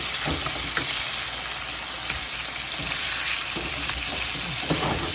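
Salmon pieces shallow-frying in a pan, Indian style, giving a constant close hiss and crackle, with occasional scrapes and knocks as the fish is turned, no one speaking.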